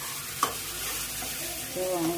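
Steady sizzling of chillies, curry leaves and tomatoes frying in hot oil, with a brief stir or clink early on and the crackle growing slightly louder near the end.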